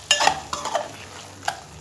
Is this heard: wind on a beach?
no